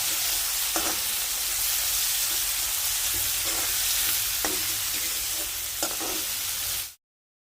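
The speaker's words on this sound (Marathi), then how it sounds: "आता त्यामध्ये मी हे कांदा आणि मिरची दोन्ही पण एकदम घालून ते गोल्डन ब्राऊन रंगावर येईपर्यंत फ्राय करणार आहे." Onion and green chili fry together in hot oil while being made into a bitter gourd dish. A steady, close sizzle runs throughout, with occasional stirring clicks, then cuts off abruptly.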